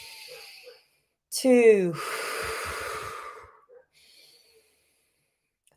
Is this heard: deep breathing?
yes